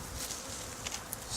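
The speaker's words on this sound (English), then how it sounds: "These are Italian honeybees." Italian honeybees buzz in a steady, dense drone at close range, with no voices present.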